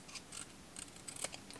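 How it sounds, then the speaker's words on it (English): Scissors snip through a thin piece of card to cut a strip 1 or 2 mm wide, making several crisp, quiet, close cuts in irregular rhythm with no voices. "I took just a piece of card, so a thin card, and some scissors, and I've just cut"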